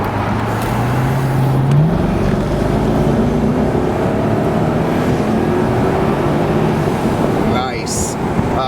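A 2005 Mercedes-Benz SL500 AMG Sport roadster pulls out of a U-turn and accelerates hard in its sport setting, engine note climbing steadily under rushing wind noise, with a shift partway through.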